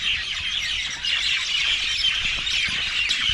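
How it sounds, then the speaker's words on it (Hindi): Birds calling from nests in a large village bush at dusk, a dense, continuous chorus of high chirps and squawks from many birds at once, steady and moderately loud with no talking. "ये देखिए मेरे पीछे परिंदों की आवाज़ें आप सुन रहे हैं,"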